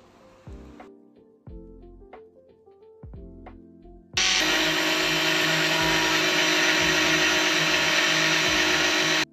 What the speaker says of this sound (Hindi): मिक्सर चलाकर ऑयल डालना है धीरे धीरे